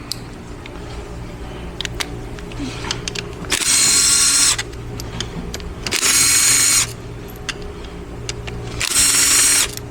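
A power tool spins out 10mm bolts from the front cover of an 8L90 transmission during a teardown, with three short, loud whirring bursts over a quiet workshop background of light clanks.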